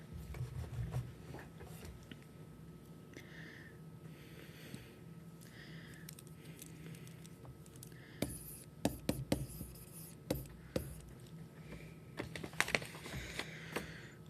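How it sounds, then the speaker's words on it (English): Pen writing out a chemistry problem solution, quiet scratching strokes throughout, with sharper taps and clicks of the pen growing busier in the second half. "I will go ahead and write out my solution here."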